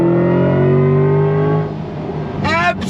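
A 2024 Chevy Corvette E-Ray engine drones loud and close under throttle, its pitch dropping sharply on a quick downshift, followed by a brief rising whine.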